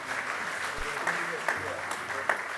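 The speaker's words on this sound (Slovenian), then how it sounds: "vseeno jim lahko zaploskamo" An audience at the 30th anniversary ceremony of BSC Kranj in Slovenia applauds, a steady, dense wash of clapping from a crowd, even in loudness and continuous throughout, with a few louder claps poking through.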